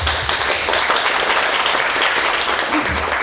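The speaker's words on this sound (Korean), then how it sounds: "저는 박수를 쳐드리고 싶어요." Loud, dense applause from a book concert audience in a hall, continuous clapping of many hands filling the space without a break.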